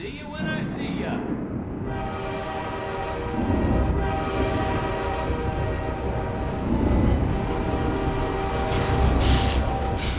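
Train in the video game Half-Life 2 Episode 1, a loud rumbling passage with a sustained horn-like tonal drone, heavy low rolling noise and a brief hiss near the end, with no talk.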